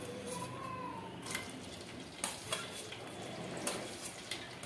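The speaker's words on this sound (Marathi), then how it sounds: "आता त्यामध्ये आपण घालून घेऊयात आपल्या बारीक चिरलेले हिरवी मिरची" Finely chopped green chillies dropped into hot oil in a pressure cooker, a soft close sizzle with a few scattered clinks and taps of a utensil against the pot, fairly quiet and with no voices.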